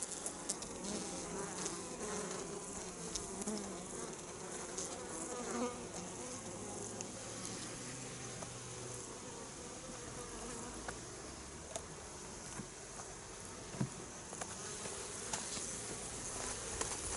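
Honeybees at an apiary hive before the summer harvest, a dense, steady buzzing swarm droning continuously close by, with occasional faint ticks and no talking.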